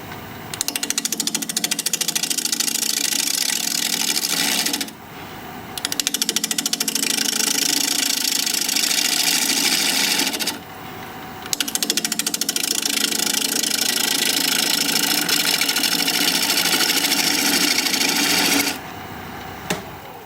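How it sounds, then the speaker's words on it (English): A wood lathe turns a butternut blank at 800 RPM while a 5/8 inch bowl gouge cuts, giving a loud, steady rough roar in three long passes separated by brief quieter pauses. "We're going to be turning at 800 RPM, 5/8 inch bowl gouge, mask and face shield on."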